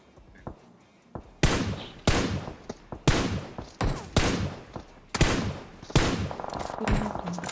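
Gunfire in the mobile battle royale game PUBG Mobile: a rapid series of loud sharp shots in bursts, close and punchy, with a short quiet gap before the firing starts.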